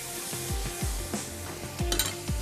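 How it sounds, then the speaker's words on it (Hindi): Spice masala and tomatoes frying slowly in a pan over low heat, with a soft sizzle under repeated low thumping scrapes of a spoon stirring against the pan, close and without voices. "सिंपली हमने इसको भूनना ही है अब"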